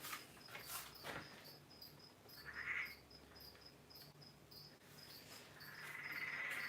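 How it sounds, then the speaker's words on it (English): Peron's tree frogs call outside at night, a steady high trilling chorus with insect-like chirps, rising louder toward the end, with no voices. "the Perron's tree frogs are going mental outside"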